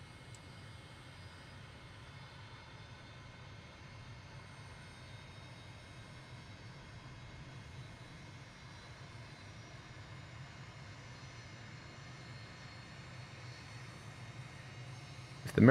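An MB-339 jet in Microsoft Flight Simulator spooling up during engine start, a steady turbine whine and rumble that slowly builds in loudness, ending with a sudden louder surge.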